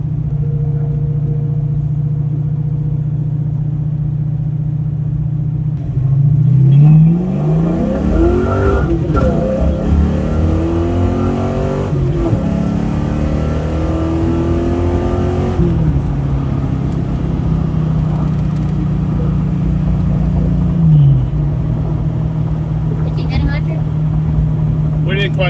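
A Fox Body with a 351W V8 and Flowmaster exhaust cruises at 55 mph. The exhaust drones steadily, swells into a rumbling acceleration with pitch sweeps partway through, then settles back to a loud, constant cruise.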